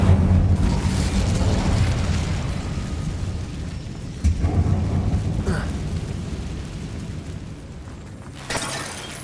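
A fire spell cast in the Hogwarts Legacy video game, inside a closed, tomb-like mine: a loud, sustained burst of roaring, crackling blast noise with a couple of sharper pops near the end.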